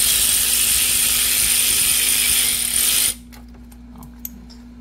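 A ratchet clicks quickly and continuously while loosening a bolt on a 2007 Infiniti FX35 engine during valve cover gasket work, then stops, leaving only faint taps and handling noises.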